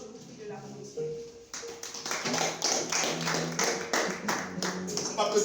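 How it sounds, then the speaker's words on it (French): Audience applauding at a ceremony for an invited guest, a dense burst of clapping that starts around the midpoint and builds steadily, with a voice speaking over the early part. "je vous prie de l'applaudir"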